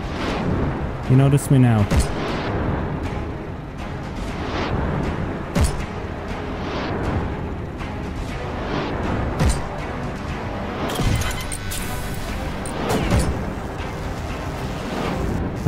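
Enemy gunfire in the steampunk combat game Steamcraft, aimed at the player's aircraft: rapid, loud shots and heavy booms bursting repeatedly under steady, excited talk.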